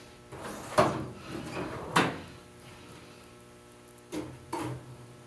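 Drawers of a rolling tool chest sliding open and shut, four distinct clunks and rattles close by, with quieter sliding rumbles between them and no voices.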